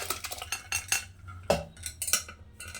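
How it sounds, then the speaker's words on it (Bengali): Boiled star fruit being poured into cooked dal in a metal pot, heard as a quick run of close clattering and scraping strikes of a utensil on the pot, uneven and fairly loud, with no talk. "সেই কামরাঙাটাকেও এটার মধ্যে ঢেলে দিচ্ছি"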